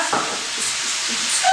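Food browns in a hot pan with a loud, steady sizzling hiss that stays even from start to finish, with no voices.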